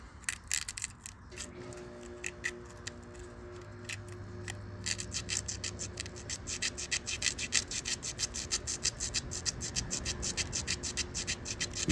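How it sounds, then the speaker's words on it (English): Sandpaper rubs briskly against the ignition points of a 1977 Honda XL75 motorcycle, starting as sparse scratches and building into a steady, quick rasping rhythm close by. "these points aren't looking too hot, but nothing a little sandpaper can't fix"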